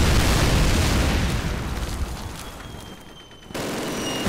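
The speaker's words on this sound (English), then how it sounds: "Good old Russian artillery bombardment saves the day again." Artillery bombardment in a Call of Duty battle: a dense, loud wall of deep booming blasts and rumbling that thins slightly, then surges again near the end, with no voice over it.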